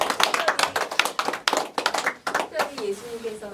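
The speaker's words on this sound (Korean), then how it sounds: "우리 하나님께 영광의 박수 올립니다." A church congregation claps in praise, a burst of dense, irregular hand claps close by, with voices speaking underneath toward the end.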